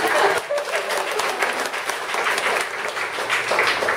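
Audience applause at a Toronto panel event on women in politics, a steady dense wash of clapping filling the room for several seconds at moderate loudness.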